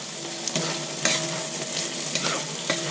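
Sweet potatoes, potatoes and onions fry in a pan with a constant close sizzle, broken by repeated scraping stirs and soft clinks at an uneven pace.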